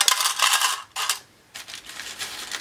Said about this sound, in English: This metal on plastic is very loud.